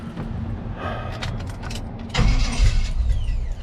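A cold 1985 Chevy K20 square-body truck with new dual exhaust cranks and fires, the engine catching with a louder rumbling surge about two seconds in and settling into a steady, fairly high idle.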